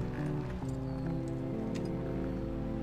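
Horse hooves clip-clop steadily in The Last of Us video game, mixed with a continuous game soundtrack of droning tones. The hoofbeats are soft and rhythmic, and there is no speech.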